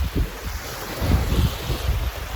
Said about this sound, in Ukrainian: Зараз трошки пройдемось біля моря, знімаю його.